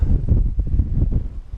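Gusty wind buffets the microphone during an outdoor mountain bike ride, with heavy low rumbling bursts across a short stretch and no speech.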